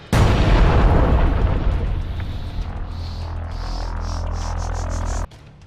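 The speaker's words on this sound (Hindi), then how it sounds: "घात लगाए लड़ाके उस इमारत में रिमोट के जरिए विस्फोट कर देते हैं।" A building blown up by remote detonation in Khan Yunis bursts in a loud, sudden explosion, then a heavy rumbling roar slowly fades over several seconds before cutting off.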